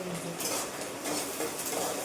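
Spice paste frying in a pan for a fish roe dish, soft sizzling under a few light clinks and scrapes of a spoon stirring against the metal, quiet and brief.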